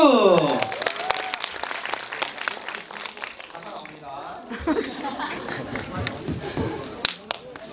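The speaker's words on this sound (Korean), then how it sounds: "여러분들의 큰 박수가 필요합니다." Crowd at a fan event in Busan breaks into applause, sharp claps and cheering bursts with a host's amplified voice mixed in, continuing for several seconds with louder peaks near the start and end.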